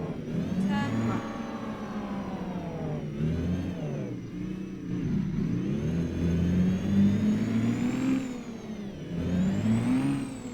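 Kenworth K100 cabover truck engine in American Truck Simulator revving up and dropping back through repeated gear shifts, the pitch climbing and falling unevenly every couple of seconds, steady and close with no talk.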